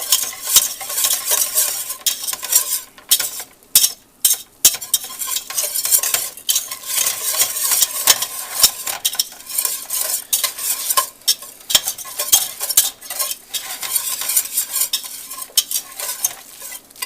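Flour roux cooking in a pot, stirred continuously: a steady bright sizzle with rhythmic scraping of the spoon against the pot, close and alone with no talking.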